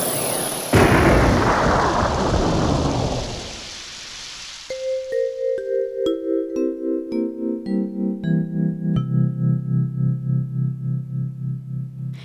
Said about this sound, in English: I'm going to blow myself up with that rocket launcher I keep in my purse.